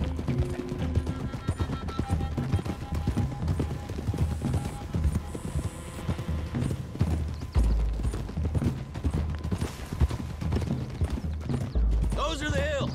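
Horse hooves clip-clop steadily in Red Dead Redemption 2 as a group rides along a road toward the hills, a continuous rhythmic trot under dialogue and music.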